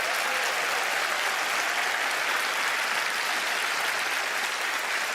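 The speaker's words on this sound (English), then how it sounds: "Please give them a round of applause." A television magic show audience claps steadily and loudly for several seconds, a dense unbroken wash of applause with no voices over it.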